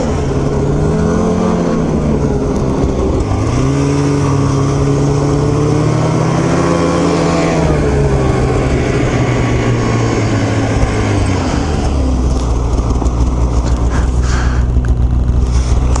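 An Arctic Cat snowmobile with a nitro motor and aftermarket exhaust roars loudly and close outdoors in winter, its engine pitch rising and falling through several revs before settling into a steady heavy drone.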